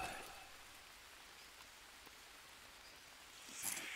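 Rain falls in the Amazon jungle of the survival video game Green Hell, a steady, faint, even hiss of drops with no clear individual hits and a slight swell near the end.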